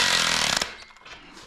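A cordless impact tool tightens a bolt in a garage shop, its loud rattling hammer burst running for about half a second before cutting off and leaving quieter clatter and room noise.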